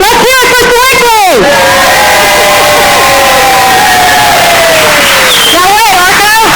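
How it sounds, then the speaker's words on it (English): A spelling bee audience cheers for a team, roaring in loud rhythmic shouted chants at the start, then a long sustained whoop, then chanting again at the end. Many voices are close and overwhelming throughout. "I think we need a cheer to get some of this energy moving"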